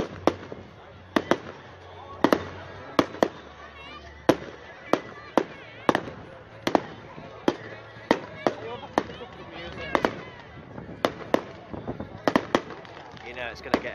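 Fireworks going off at an outdoor display, a steady series of sharp cracking bangs at irregular intervals, some in quick pairs, with crowd noise and voices underneath.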